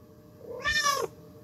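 A house cat gives a single clear, close meow lasting about half a second, rising then falling in pitch against a quiet room.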